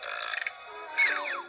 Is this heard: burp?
yes